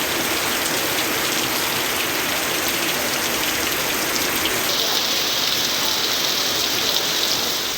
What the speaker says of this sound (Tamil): அரியலூர் மாவட்டம் செந்துறை, ஆர்எஸ் மாத்தூர், அங்கனூர் உள்ளிட்ட பகுதிகளிலும் மிதமான மழை பெய்தது.